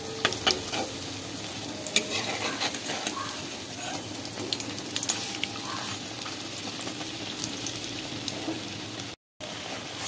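Stuffed ash gourd leaf fritters fry in hot oil with a dense, continuous sizzle and crackle close by, broken only by a brief dropout near the end.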